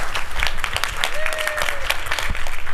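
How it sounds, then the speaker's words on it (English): A keynote audience at a cloud computing expo breaks into sustained applause for the CTO of HGST, dense steady clapping filling the hall from start to finish, with a faint tonal whistle or cheer rising briefly in the middle. "let us please, thunderous morning applause for Stephen Campbell, CTO of HGST"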